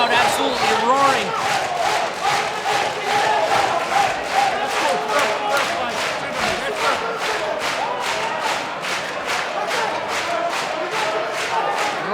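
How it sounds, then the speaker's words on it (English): Spectators at a CAGE MMA bout chant and roar in a steady rhythmic pattern, loud rowdy pulses repeating evenly, with a commentator's voice faintly underneath. "This crowd absolutely roaring."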